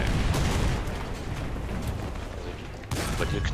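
Shell explosions in a War Thunder tank battle, a dense rumbling barrage of booms with a sharp new blast near the end, loud and continuous.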